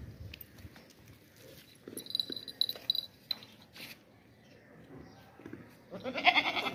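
A goat bleats a few times amid rustling and handling noises as it is checked over, with a louder burst of movement near the end; no clear talking.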